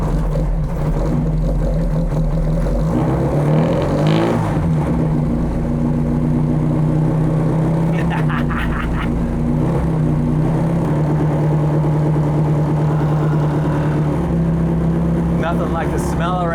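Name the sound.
Britax Classic race Mini engine starting and revving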